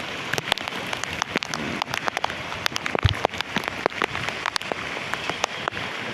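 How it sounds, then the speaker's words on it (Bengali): Heavy rain pours down in Dhaka, a dense steady patter on surfaces with sharp, close drops striking throughout and no voices. "বাইরে অনেক বৃষ্টি হচ্ছে এই সেক্টর দিয়ে অনেক বৃষ্টি"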